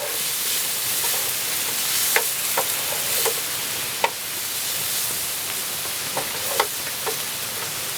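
Pepperoni slices frying in hot oil in a pan for a quail parmesan sauce, a steady close sizzle with a few sharp pops and crackles scattered throughout, no voices.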